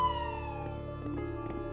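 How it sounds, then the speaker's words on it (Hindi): A police siren wails steadily in the background, its tone sliding slowly, with a few soft knocks or clicks scattered over it. "पुलिस की गाड़ी आकर रजत सरिता के घर के बाहर रुकती है।"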